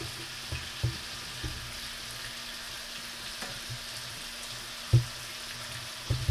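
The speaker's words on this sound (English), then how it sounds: "I'm going to crank the heat back up on it so it can get a good sear with the glaze on it." Chicken searing in a spicy honey sriracha glaze in a hot pan, a quiet steady sizzle broken by a few sharp pops and scrapes.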